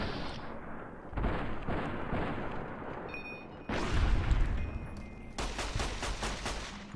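Pistol shots in Fallout: New Vegas ring out amid dense game combat, with loud cracks and sharp bursts over a steady rumbling backdrop.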